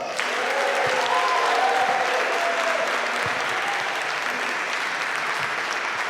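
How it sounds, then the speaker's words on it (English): Sustained audience applause at a live show, a dense, even wash of clapping from a large crowd that stays loud throughout, with a few faint voices and cheers rising briefly near the start. "Please give her a round of applause."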